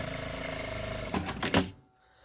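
A sewing machine runs a fast rhythmic stitch along a seam in a small handbag lining, steady close whirring for over a second before a couple of louder clunks and an abrupt stop into quiet.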